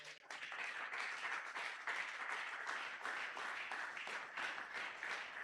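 A church congregation at a Sunday praise and thanksgiving service applauds steadily, a dense, continuous wash of many hands clapping with rhythmic pulses, sustained and fairly even throughout, with no voices over it.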